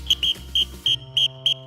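Six short, sharp whistle blasts in an uneven rhythm, loud and close, with a low hum underneath.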